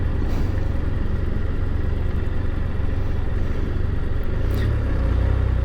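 A Can-Am Spyder three-wheeled motorcycle rolls over newer brick roads near a town square, its engine a steady close drone with continuous road rumble throughout and a brief rise in revs near the end.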